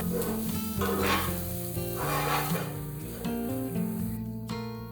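Fried chicken and prawns with pepper being stir-fried for nasi goreng, a steady sizzle with stirring scrapes and bursts of crackle, close and moderately quiet, with a faint dog barking in the background.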